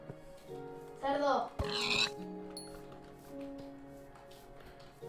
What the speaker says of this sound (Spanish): Mira, un cerdo.